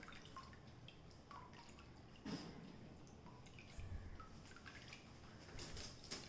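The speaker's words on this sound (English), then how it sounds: "And just squeeze off all the excess water." Excess water drips and trickles from homemade paneer being squeezed by hand, faint and close, with a few soft splashes over a quiet wet background.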